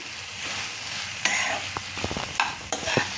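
A spoon scrapes and knocks through a tomato soup mixture in a pan, several distinct clinks and scrapes over a steady low sizzle, close and moderately loud with no talking.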